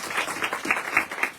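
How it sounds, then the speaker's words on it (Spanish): Scattered clapping from a small audience at a literary talk on crime novels, uneven and moderately close, with individual claps standing out in a loose rhythm. "Un aplauso para Irán."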